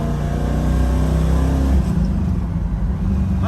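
A 1968 Chevrolet Camaro engine accelerating hard in fourth gear, a loud, steady deep roar close by that rises in pitch and then settles, with no one speaking over it.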